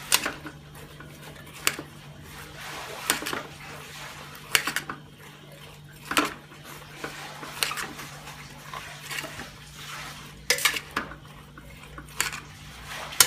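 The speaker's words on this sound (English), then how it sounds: "Now saute the vegetables for a few minutes." Vegetables for dodka nariyal sabji sauteing in a pot, with scattered clinks and scrapes of a utensil against the vessel over a steady low hum, the stirring sounds coming in irregular bursts.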